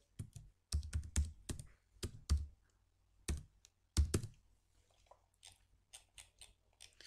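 Text is typed on a computer keyboard in a SolidWorks sketch, with close, distinct keystrokes in irregular bursts that thin out into lighter, scattered taps.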